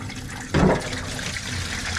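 Water gushes briefly out of a flooded car boot in one short, close splash, then fades to a quiet trickle and background hiss.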